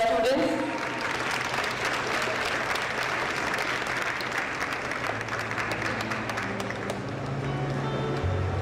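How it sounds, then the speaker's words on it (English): Sustained applause from a large crowd of students at a memorial lecture, dense steady clapping that fills the whole stretch, with faint talk beneath it. "A big round of applause, students."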